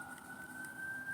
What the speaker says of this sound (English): okay, here's the sirens